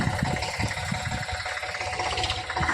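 A tractor engine idles in a farm field with a steady low rumble and a dense rattling knock, constant and fairly loud throughout, no voices over it.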